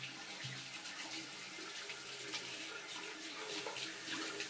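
Water pours steadily from a tap, broad and hissing, while a safety razor full of stubble is rinsed during a shave; close and continuous with no talk.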